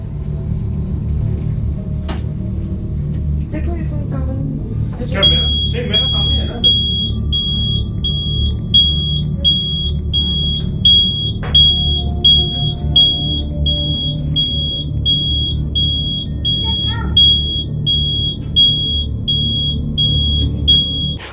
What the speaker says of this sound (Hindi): तो अचानक से फायर अलार्म बजने लगे बिना किसी वजह से